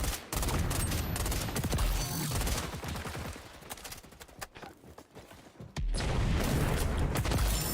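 XDefiant gunfire fills the soundscape, with dense, continuous bursts of shots loud and close that thin into scattered, sparser shots midway before the heavy firing resumes.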